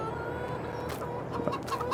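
Chickens cluck and squawk in Farming Simulator 22, a busy flock whose calls come in short bursts over a steady farmyard background hum.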